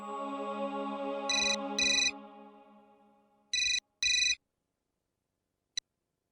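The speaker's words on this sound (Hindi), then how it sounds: "मैं कृष को फोन करती हूँ।" A telephone ringtone plays in repeated short bursts, two pairs of bright trilling rings, then a single faint chirp before silence, with no talking.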